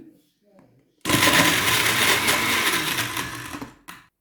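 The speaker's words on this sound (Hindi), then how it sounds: "इसको मैंने थोड़ा सा ब्लेंड कर लिया" A blender whirs loudly and steadily for about three seconds as milkshake ingredients are blended, then stops abruptly; brief soft talk comes before it.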